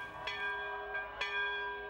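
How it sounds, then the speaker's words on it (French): A church bell on a small Polynesian island rings with three resonant strikes spaced about a second apart, each leaving a sustained, shimmering ring that carries on between hits. "la cloche de l'église rythme la vie de l'île"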